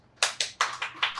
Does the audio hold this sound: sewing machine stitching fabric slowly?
no